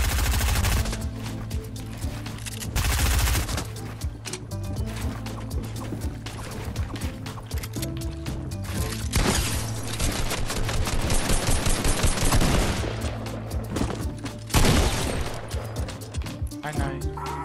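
Rapid bursts of gunfire ring out in Fortnite, sharp shots and automatic fire mixed into dense, loud game action, with a player talking over much of it.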